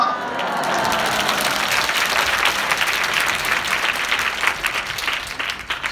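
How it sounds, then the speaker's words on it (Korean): A congregation at a Korean church's Easter service applauds to welcome the pastor, producing dense, sustained clapping that swells and holds steady for several seconds. "우리 박수로 목사님 맞이하겠습니다"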